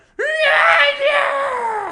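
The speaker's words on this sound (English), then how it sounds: "There's no lyrics. It's just screaming." A male vocalist screams a long, raw, sustained wail in a song played back during a podcast, starting abruptly and holding loud for nearly two seconds with a wavering pitch.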